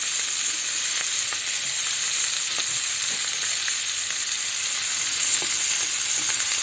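Green capsicum and fennel fry and get stirred in a pan, giving a steady, close, bright sizzle throughout with faint scrapes and clicks from stirring and no talk.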